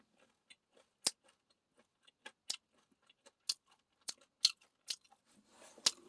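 Crisp bread baked in a traditional Korean wood-fired agungi oven is chewed close up, giving a run of sharp, dry crunches in an irregular rhythm with no talking.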